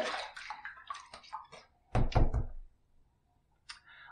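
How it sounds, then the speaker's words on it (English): A safety razor and shaving brush are rinsed under water: a few light taps and splashes come first, then a louder, close burst of running water, and a faint clink at the end. "That's a fantastic second pass. Let's rinse."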